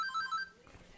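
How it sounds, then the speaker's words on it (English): A mobile phone ringtone chimes in a quick run of bright electronic notes for about half a second, then fades into a quiet room. "And that's my phone."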